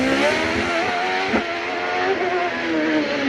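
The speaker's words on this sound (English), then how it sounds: "That car is absolutely flying." A race car accelerates hard up the Harewood hillclimb course during a British Championship event. Its engine roars loud and close, with the note climbing and shifting steadily and a brief break around a gear change.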